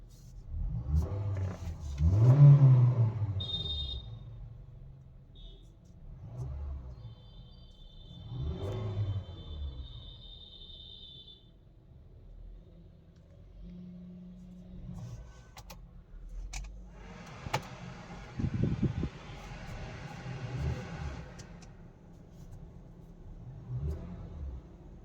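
A Honda City i-VTEC car engine revving as the accelerator is pressed, giving low rumbling surges that swell and fade several times, with faint clicks and rattles in between.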